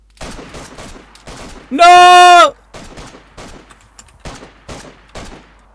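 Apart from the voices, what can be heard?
gunfire in the video game DayZ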